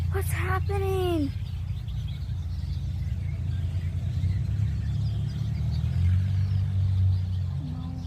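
A few sharp, sweeping bird calls ring out at the start, then a steady low rumble of nearby traffic continues alone outdoors in Washington.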